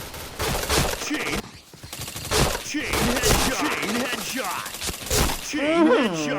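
Rapid bursts of APC9 submachine gunfire in a shooter video game, loud and close, firing in repeated short volleys with a voice talking over parts of it.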